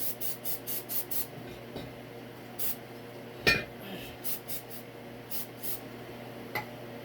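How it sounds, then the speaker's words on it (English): Brake cleaner sprayed onto a go-kart tire rim in short, rapid hissing bursts, first in a quick run and then in scattered spurts, with a single metallic clink midway against a low background hum. "I'm just going to take a little bit of this brake cleaner."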